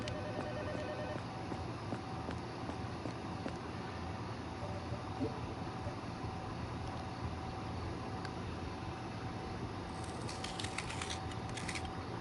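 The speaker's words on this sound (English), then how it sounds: "Oh my god, this fucking phone," A telephone rings faintly in the horror video game Tormented Souls II. The quiet, repeated trilling sits beneath a low mechanical room drone and grows more insistent toward the end.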